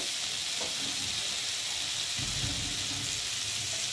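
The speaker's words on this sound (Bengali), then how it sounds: "সবজিটা ভাজা ভাজা হয়ে গেছে অনেকটাই দেখতে পাচ্ছ সবজি থেকে তেলও ছেড়ে দিয়েছে" Vegetables fry in oil in a pan, giving a steady close sizzle with a soft stirring scrape partway through.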